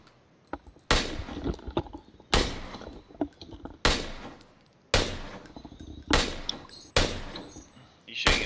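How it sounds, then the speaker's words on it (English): Gunfire in a military video game, loud bursts and single shots repeating every second or so, each with a long ringing tail, with faint talk between the shots. "Are you shooting at someone or a vehicle?"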